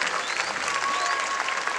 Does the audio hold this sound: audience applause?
yes